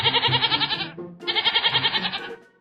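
A goat bleats twice in quick succession, loud and close, each call a long wavering cry of about a second, with no other sound around it.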